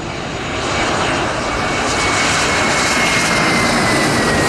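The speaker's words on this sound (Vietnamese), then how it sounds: "chúng ta sẽ có một chiếc Airbus A321 của Vietnam Airlines cũng đang bước vào hạ cánh" A Vietnam Airlines Airbus A321 jet on approach to land at Tan Son Nhat airport in Saigon, its engines producing a loud, steady roar that holds through the whole stretch with no talk.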